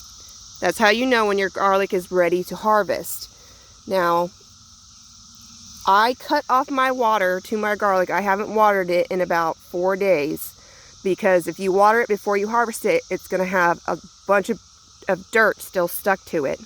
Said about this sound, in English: The brood egg cicadas are very loud right now.